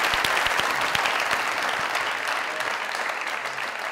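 Studio audience applauding a guest on a Pakistani comedy talk show, dense steady clapping that fills the whole stretch, loud and close, with faint voices mixed in.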